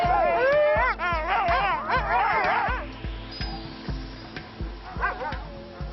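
Sled dogs from teams of up to ten pull-dogs in the Arctic bark, yip and whine excitedly, a dense overlapping chorus of rising yelps close by that thins to scattered whimpers and barks.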